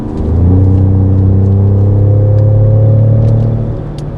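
Engine of a 2019 Ford Raptor pickup truck with the 3.5 engine pulling steadily on a feeder road near 55 to 60 mph, a loud continuous rising drone with strong low harmonics, heard from inside the cab without talk.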